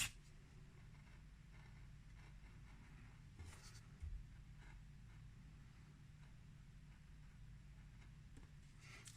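A craft knife scratches faintly and continuously through a paper cut-art stencil, with one brief louder scrape partway through in a quiet room.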